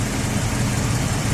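The V8 engine of a 1987 Mercedes-Benz 560SEL, which has a heater problem, idles steadily as a continuous, close low rumble with a broad hiss above it.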